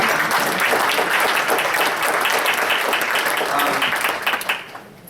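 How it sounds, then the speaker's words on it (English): Audience at a panel discussion on affordable housing strategies breaks into sustained applause, dense and steady for several seconds before tapering off near the end. "I just want to give a round of applause to Rupco."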